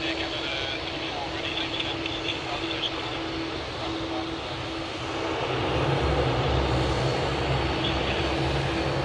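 Malaysia Airlines flight MH250 rolling for takeoff on runway 34 left at Sydney Airport, a steady broadband engine roar that swells louder partway through, with radio-style voice chatter faintly underneath.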